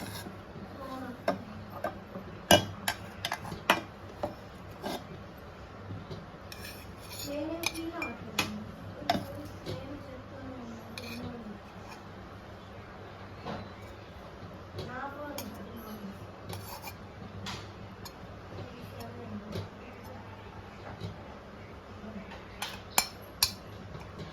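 Mung dal khichdi being served into a serving bowl, with a spoon scraping and clinking against metal vessels in scattered taps and rubs, faint talk now and then in the background.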